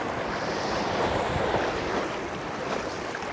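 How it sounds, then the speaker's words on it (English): High water of the Eagle River rushes past a boat in a steady, close wash with gusty wind noise and no voices. "The water flow is pretty high"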